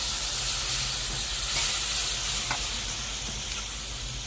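Bitter gourd tamarind curry simmers over a low flame, giving a steady close sizzle and hiss with occasional soft stirring clicks, continuous and without talk.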